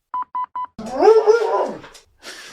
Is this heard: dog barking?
yes